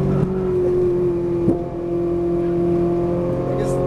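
A Ferrari 458 Italia on a speedway race track holds a sustained high-pitched engine drone at full throttle, steady and close inside the cabin, with a brief thump partway through and a voice talking over it.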